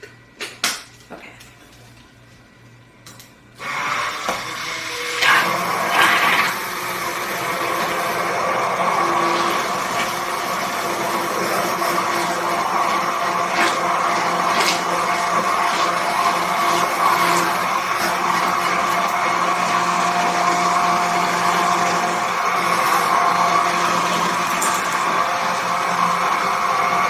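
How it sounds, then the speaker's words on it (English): An immersion blender whirs steadily while blending salad dressing ingredients in a kitchen, a loud continuous motorized hum starting after a few quiet seconds and holding alone to the end. "I'm going to take that same immersion blender and blend this all together."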